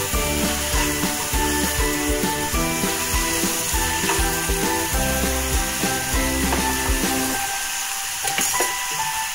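Onions sizzle and hiss steadily in a pan for aloo methi sabji, a continuous close frying sound with a low hum underneath that drops away near the end.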